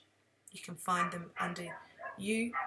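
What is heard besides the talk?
dog barking next door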